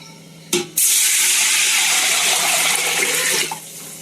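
Water pours steadily into a cooking pot for wheat papad kurdai batter, a loud continuous splashing gush that starts abruptly and runs about three seconds before cutting off, with a faint background hum.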